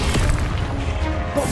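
Bombardo blast spell exploding in Hogwarts Legacy, a single loud, close, low boom with a crashing rumble over the whole brief moment.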